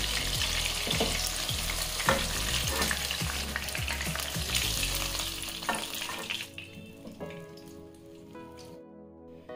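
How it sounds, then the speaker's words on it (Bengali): Continuous crackling sizzle of catla fish pieces frying in hot oil, loud and close, with a few utensil taps, fading out toward the end. "যেহেতু রেজালা করছি তাই মাছগুলো হালকা করে ভেজে নিচ্ছি।"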